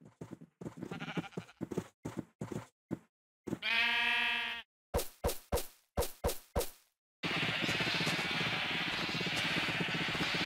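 A Minecraft sheep gives one clear, nasal bleat among a string of sharp game thwacks and clicks, followed by a long stretch of steady hiss.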